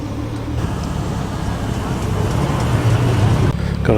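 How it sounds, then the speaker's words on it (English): A Mark 3 Triumph GT6 with a 2-litre straight-six burbles gently at low revs as it rolls in at a classic car show, a steady rumble amid crowd chatter and nearby voices. "A Mark 3 Triumph GT6 here. Burbling in gently, the big 2-litre straight 6 under that bonnet."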